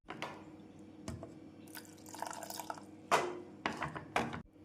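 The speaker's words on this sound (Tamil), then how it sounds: "மிக்சி ஜாரில் 1/4 டம்ளர் தண்ணீர் சேர்த்து மாவுடன்" Water poured from a mixer jar into rice flour batter for mini appam, heard as close, irregular splashing and dripping bursts with short pauses between pours.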